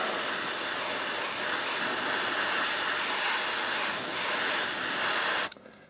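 An airbrush sprays acrylic paint in a steady, loud, close airy hiss that holds evenly for several seconds and then cuts off abruptly into quiet.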